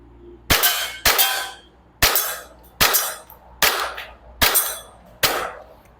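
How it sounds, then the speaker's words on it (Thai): An Umarex Glock 19 Gen5 BB pistol fires seven sharp, loud cracks at roughly one-second intervals, shooting at a target about 10 metres away, each shot snapping cleanly with a short decay. "ยิงได้ปกตินะครับลูกหมดสไลด์ค้างตัวปืนไม่มีปัญหา"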